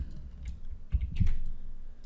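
Computer keyboard keys pressed a few times at a desk while editing a level in Unity, quiet clicks against a low background hum with no voices.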